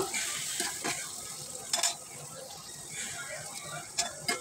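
Spices for a fish curry with potato and ridge gourd are stirred and fried in a pan with a splash of water, giving a steady soft sizzle broken by a few scraping strokes of the spoon.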